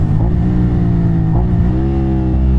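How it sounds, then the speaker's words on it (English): A Suzuki SV650 motorcycle engine drops through a downshift while riding, its steady drone stepping up abruptly in pitch partway through before settling into a higher, continuous hum, loud and close throughout. "Oh, that was a terrible downshift."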